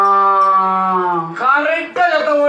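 A voice imitates the bellowing call of a buffalo, the mount of Yama, during a villupattu performance: a long, loud, sustained lowing tone that breaks into two further rising bursts, close and alone.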